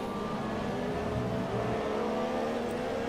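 Simulated Formula 1 cars, a Force India and a Mercedes among them, race in a video game with a steady, continuous engine whine and drone that holds for a few seconds with no talking.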